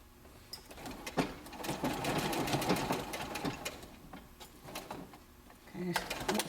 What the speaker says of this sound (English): I'll be stitching up over that other piece.